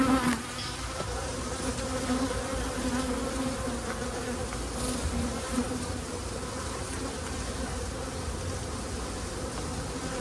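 Dense, continuous droning hum of many honeybees buzzing close around an open hive, moderately quiet and steady with no voices.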